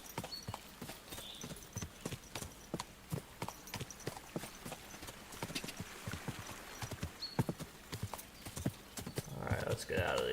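Horse hooves clip-clop steadily through woods in Kingdom Come Deliverance, an even, fairly close rhythm of hoofbeats under quiet game ambience with a voice talking at times.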